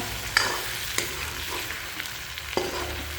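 Bitter gourd and potato curry sizzles and fries in a pan, with a continuous soft crackle broken by a few sharp clicks as it is stirred.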